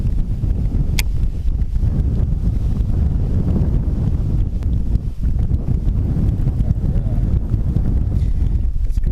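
Steady, strong wind rumbles across open water during kayak bass fishing, buffeting the microphone with a dense, continuous low roar and no clear pauses.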